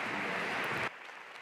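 Audience applause at an Audi summit as a guest is welcomed, a dense burst that cuts off abruptly partway through, leaving quiet room tone.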